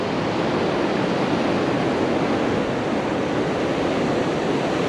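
Ocean surf rolls onto the beach at Fowlers Bay as a continuous, dense rush of breaking waves, steady and fairly loud, with no voices.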